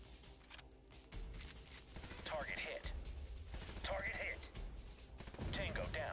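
Gunfire in the video game USC Counterforce: rapid bursts of weapon fire crackle repeatedly through the passage while someone talks over the shooting.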